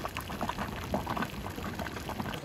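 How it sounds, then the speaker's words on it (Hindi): Hot spring water bubbles and churns at a natural source in a Himalayan mountain valley in Uttarakhand, a dense continuous gurgling heard up close with no talking. "ये देखो ये रहा, पूरा उबल रहा है।"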